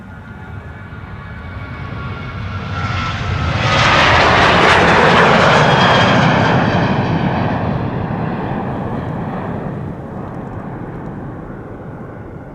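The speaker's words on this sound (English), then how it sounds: "Two back-to-back departures of geared turbofan engined airplanes." Airliner with geared turbofan engines departing Amsterdam Schiphol: a loud, broad jet roar that swells to a peak, then slowly fades as the aircraft climbs away. No voices.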